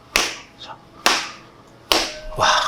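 Three sharp, slapping strikes land on a hand hardened by hand wrapping, spaced about a second apart and loud and close, with a brief murmur of a voice near the end.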